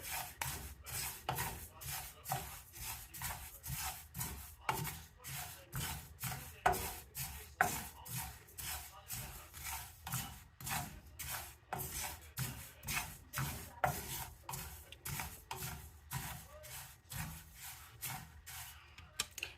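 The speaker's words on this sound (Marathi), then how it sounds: "ही साधारण 2 चमचे खसखस आहे. याच्यातच आपण भाजून घेणार आहोत." About two spoonfuls of poppy seeds are dry-roasted in a pan, with a spoon stirring and scraping in a steady rhythm, each soft rasping stroke repeating about every second, faint and close.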